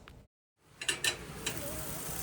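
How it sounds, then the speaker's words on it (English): Fish and chicken sizzle as they fry in a pan while a meal is cooked on a trip, giving a steady hiss with a few sharper crackles and stirring clatters after a brief silent gap. "we're cooking some of the fish we caught with some chicken"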